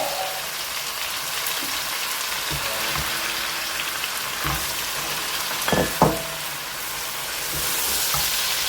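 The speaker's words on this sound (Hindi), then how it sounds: "कीमे को ऐड करेंगे और अच्छी तरह इसको खोलेंगे ताकि ये अच्छी तरह फ्राई हो जाए सब तरफ से।" Minced meat keema frying with garlic ginger paste in a pan, a steady dense sizzle with occasional spatula scrapes and knocks, close and continuous.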